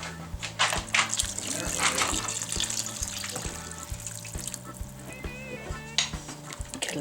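Water pours steadily into a crockpot of chicken noodle soup, a continuous close splashing stream with a few clinks of dishes and a low steady hum underneath.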